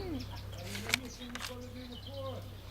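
A dove's soft, low cooing call repeats in a steady pattern over a constant background hum, with a brief sharp knock partway through.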